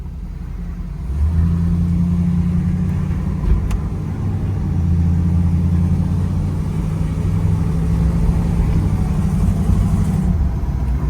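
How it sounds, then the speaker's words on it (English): A 1969 Chevrolet Camaro RS SS with a 396 V8 rumbles steadily on a test drive in Kentucky with the windows down, a loud, continuous low engine drone holding for about ten seconds after a brief quieter start. "we're going to take this 1969 Chevrolet Camaro RS SS for a test drive and see how it does"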